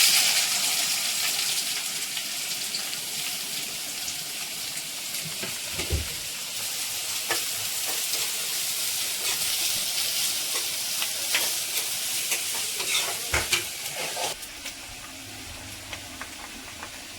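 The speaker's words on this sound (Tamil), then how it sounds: "இதுலேயும் கொஞ்சம் வெங்காயம் பச்சை மிளகா வெட்டி வச்சுருக்கேன் அது போட்டுடலாம்" Onion and green chili frying in hot oil make a steady sizzle and crackle close to the pan, with a few sharp clanks of stirring and splashy bursts breaking through near the end. No one speaks.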